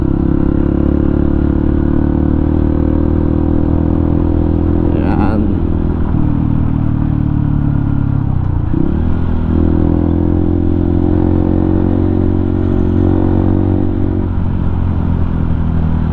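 A motorcycle rides uphill through narrow, crowded city streets in Cagayan de Oro, its engine droning steadily and loudly throughout with small shifts in pitch, while someone speaks over it.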